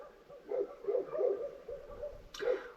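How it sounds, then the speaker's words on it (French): A pack of dogs barks around a camper van parked in the Balkans after a car arrives, the barks coming in a muffled cluster from a moderate distance with a faint background hiss. "On est encerclé par des meutes de chiens. Et il y a une voiture qui vient d'arriver, du coup ça a refait aboyer tous les chiens."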